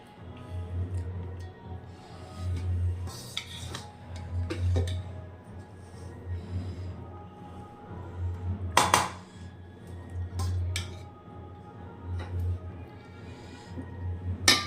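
Chicken fried rice is spooned onto a plate, with scattered clinks and scrapes of dishes and cutlery over a low steady kitchen hum.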